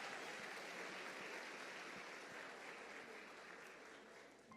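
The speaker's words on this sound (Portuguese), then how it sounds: "Uma salva de palmas pela vida do nosso sonoplasta." A congregation at a church service applauds the sound technician, a steady wash of clapping that is soft and distant and tapers slightly toward the end.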